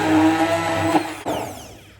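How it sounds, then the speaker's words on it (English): An electric blender mixes bananas and strawberries into a smoothie, running with a steady loud whir that dips briefly near the end and then winds down. "You put everything in the mixer."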